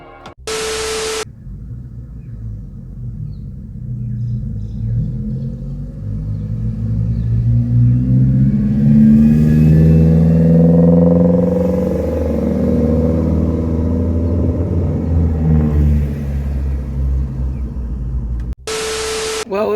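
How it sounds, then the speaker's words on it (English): Nissan 350Z engines rumble as the cars drive off, a low throaty drone swelling to a peak midway and then fading away, heard alone with no talking. "If we wait here long enough, they might freaking leave and we can hear their engines"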